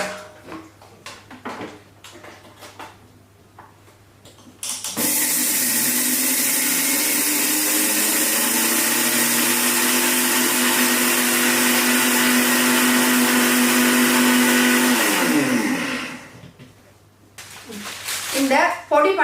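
A mixer grinder grinds kavuni rice with other ingredients, starting with a sudden loud whirring roar that holds steady for about ten seconds and then winds down, with clattering and handling sounds before and after.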